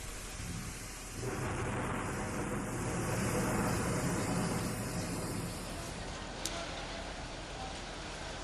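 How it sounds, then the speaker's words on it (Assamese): A fierce storm over Guwahati roars with steady heavy rain and wind, a dense continuous wash of noise with deep rumbling thunder beneath it, loud and unbroken for several seconds. "ধুমুহাই কাল ৰূপ ধাৰণ কৰিছে"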